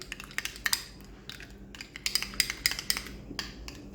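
A utensil stirs a small amount of very spicy salsa in a bowl, giving irregular light clinks and scrapes against the dish, close up and fairly quiet with no talking.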